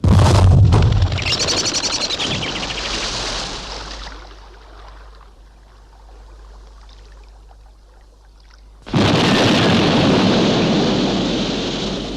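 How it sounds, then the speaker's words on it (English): A loud, roaring explosion from a timed detonation in a sci-fi UFO operations scene. A heavy rumbling blast fades to a low rush, and then a second sudden, loud burst of roaring noise follows. "Set detonation for 10 seconds."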